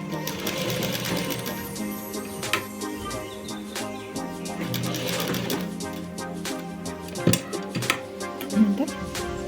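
A sewing machine stitches blouse fabric in fast, steady mechanical bursts of needle clatter with a brief pause, while someone talks over it.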